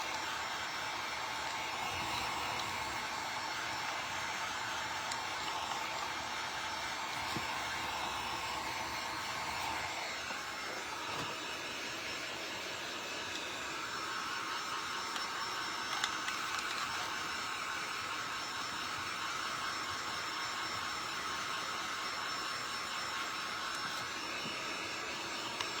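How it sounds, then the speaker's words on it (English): A hair dryer blows on freshly painted wooden cutout figures. Its steady, loud whir continues without a break, with a slight shift in tone partway through as it moves closer. "we're just gonna get this all dried"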